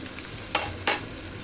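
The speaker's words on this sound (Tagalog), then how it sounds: "Unahin ko yung taba. Pagmamantikain ko siya." Pork fat frying and rendering in a pan, a steady soft sizzle broken by two sharp scraping clacks of a utensil stirring against the pan, close and clear with no talk.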